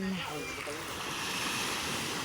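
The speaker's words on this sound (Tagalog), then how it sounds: "Yan yung dagat." Sea surf washing continuously against a beach shore in a steady broadband wash, with a brief faint voice near the start and some wind on the microphone.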